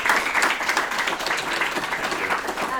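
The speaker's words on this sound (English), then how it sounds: "Can we give Tim a big round of applause?" Audience applause for a panelist named Tim at a law school exploration event, a sustained wash of many people clapping, fairly close and even in level from start to finish.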